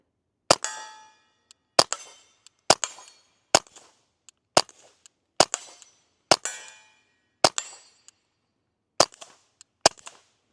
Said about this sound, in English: Let's go ahead and shoot a little bit.